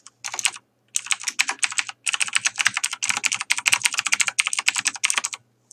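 Fast bursts of typing on a computer keyboard, the keys clattering alone in quick runs separated by short pauses.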